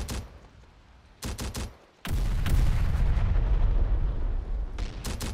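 Artillery guns fire in Terminator: Dark Fate Defiance, with several sharp booming blasts that give way to a sustained, heavy rumbling barrage of continuous loud detonations, followed by a few more close shots at the end.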